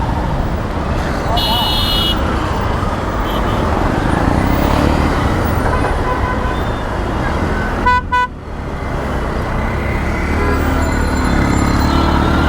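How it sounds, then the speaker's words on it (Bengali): Loud, dense road traffic in a morning jam, with engines rumbling close by and car horns tooting several times, including a sharp honk burst near the middle. "রাস্তায় তো সকালে এমনিতেই অনেক জ্যাম।"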